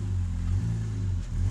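A Jeep Wrangler Rubicon engine rumbles low through a Dynomax muffler delete, with brief small rises in throttle and no talking.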